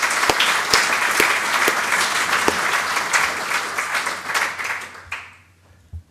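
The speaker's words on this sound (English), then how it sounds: "we should give them a clap anyway" Audience applause at an annual lecture evening, a burst of close, distinct claps filling out into steady clapping that fades away after about five seconds.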